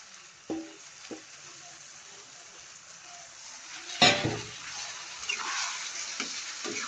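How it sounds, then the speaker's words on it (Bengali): Fish pieces, including the head, fry in hot oil in a pan as a light fish and pointed gourd curry is cooked, giving a steady close sizzle with a louder burst of spitting midway and small clatters from the pan. "একটু মাছটা কষে রান্না করব এখন মাছ দিয়ে দিব"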